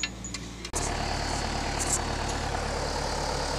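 A 6410 farm tractor engine catches after a brief cranking start and settles straight into a steady, low diesel idle, close and constant.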